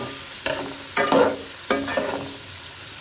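Onions frying golden brown for biryani in a pan, with a few distinct stirring scrapes and bursts of sizzle over a steady low hiss, close and moderately loud.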